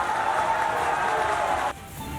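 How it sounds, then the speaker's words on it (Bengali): Applause for Santu at a political rally in Bengal, a steady wash of crowd clapping that cuts off abruptly near the end, leaving quieter background murmur. "সন্টুর জন্য হাততালি হয়ে যাক।"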